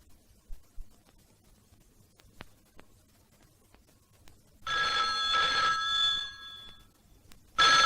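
An old-fashioned telephone bell rings loudly in a bright burst, pauses, then starts ringing again, after a few faint taps and knocks in a quiet room.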